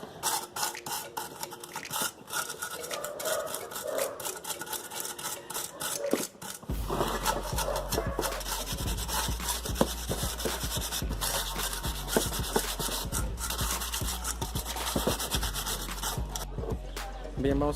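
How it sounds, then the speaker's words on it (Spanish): Rusty parts of a motor fan shroud from an Atlantic / Caribe MK1 are sanded by hand with a steady, continuous rubbing rasp that grows denser and louder after the first few seconds, with no talk. "Y vamos a lijar también las partes oxidadas para poder darle una pasada de una vez con pintura."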